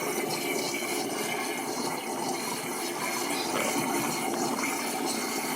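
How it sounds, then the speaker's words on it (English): Water from a beer-brewing cooling hose pours into a kitchen sink through the aerator, making a steady rushing, splashing gush that stays constant and fairly close. "I got my exit hose going down into my sink, into my aerator."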